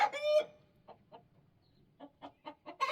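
Domestic hens cluck close by, opening with a loud drawn-out squawk, then a series of short, evenly spaced clucks that build in rhythm toward another sharp call at the end.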